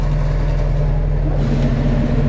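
A John Deere 1042 combine harvester engine runs on hand throttle, a loud, steady diesel drone with a strong low hum that shifts slightly partway through.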